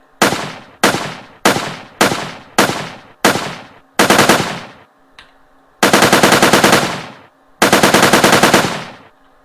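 Weapon firing in a Unity3D video game: a run of sharp synthetic gunshot bursts, several short evenly spaced shots followed by longer sustained volleys, loud and clean with silence between.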